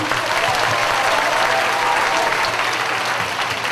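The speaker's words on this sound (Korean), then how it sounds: "우리의 만남을 허락해 주신 아버지 하나님께 영광의 박수 삼가 올리겠습니다" A large congregation at a youth worship festival breaks into loud, dense applause, a continuous roar of clapping at steady strength from start to finish.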